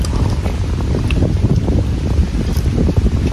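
Steady, loud wind buffeting the microphone, a dense low rumble with gusty fluctuations throughout and no voices.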